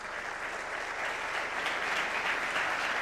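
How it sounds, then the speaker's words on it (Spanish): An audience at an economics panel claps for a panelist, a dense, steady round of applause that holds throughout without any voices over it. "Pido un aplauso para ella."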